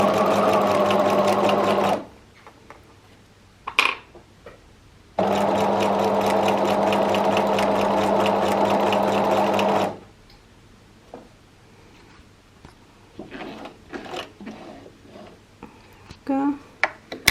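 A domestic sewing machine stitches layered cotton make-up remover pads in two steady bursts of about four seconds each, with quiet handling noises and a few clicks between and after the runs.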